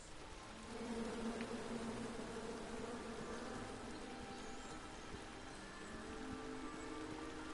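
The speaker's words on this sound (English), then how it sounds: "Come at me, bees!" Angry bees from a tree in the King's Quest video game buzz in a steady, dense drone that holds unbroken for several seconds at moderate loudness, with no voices over it.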